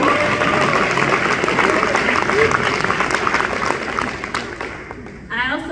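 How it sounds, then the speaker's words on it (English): An audience applauds during a congressional campaign speech, a dense and loud wash of many hands clapping that runs steadily and then thins out near the end. "Y'all can clap for that."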